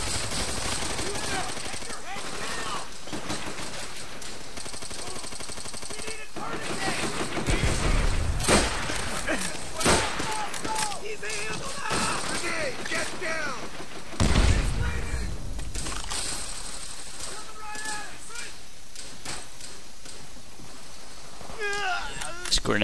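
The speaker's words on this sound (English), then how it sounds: "It's a grenade launcher." A grenade launcher and other gunfire go off in the World War II shooter Call of Duty: World at War, with bursts of shots and a few heavy thumps under near-constant talking.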